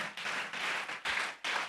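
Church congregation at a Holy Communion service clapping hands together, a dense burst of many palms in short surging waves, moderately loud and without talk.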